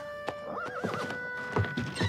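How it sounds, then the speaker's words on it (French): An agitated horse whinnies loudly and close, a wavering neigh followed by a few heavy hoof thuds, in a toy-figure princess story with no talk over it. "Mauvaise idée, c'est un cheval très agité."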